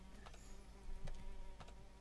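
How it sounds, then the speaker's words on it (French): A faint, continuous buzzing hum of small flies in a horror video game, with a few brief soft clicks over the drone. "J'entends des petites mouches."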